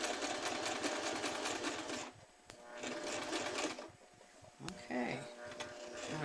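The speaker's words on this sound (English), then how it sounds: "I'm going to try not to sew over my finger" A sewing machine runs in rapid bursts, stitching ruffle elastic onto fabric under a presser foot. It whirs close and steady, pauses briefly, then starts again with short stops and clicks.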